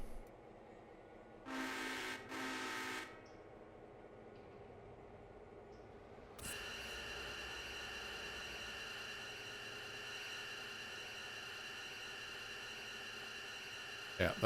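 A train in the Railroader video game eases forward at the Sylva interchange: after a short double horn-like blast, a steady rumbling hum with a high sustained whine sets in and holds, fairly loud and continuous, with no one talking.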